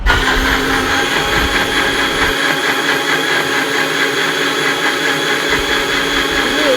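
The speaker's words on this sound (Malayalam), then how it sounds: "ഇനി നമ്മൾ മിക്സി ഓണാക്കി ഇതൊന്ന് അടിച്ചെടുക്കാം." A kitchen mixer grinder blends an orange and cucumber drink with sugar, giving a loud, steady whir that runs unbroken the whole time with no talking.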